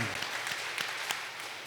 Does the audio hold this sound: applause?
yes